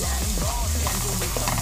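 Onions sauté in a pan for vegetable noodles, a loud, dense sizzle of frying with stirring scrapes, close and continuous throughout the short stretch.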